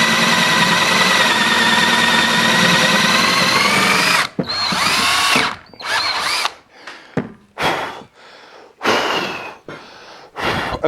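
A power drill bores into the hardwood body of a bass guitar kit, running loud and continuously for about four seconds close by, then a series of short, sharp bursts separated by pauses, with no talking.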